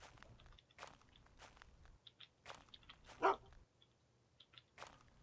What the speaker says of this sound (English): Just a regular bark.